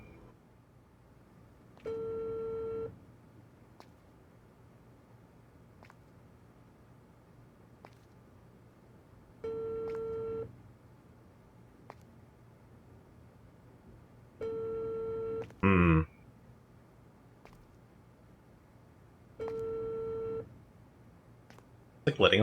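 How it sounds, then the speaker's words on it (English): A phone rings in the video game Unheard, sounding as four evenly spaced, steady electronic ring bursts several seconds apart, fairly quiet, with a brief noisy glitch and a short murmur from a person. "Like letting a phone ring."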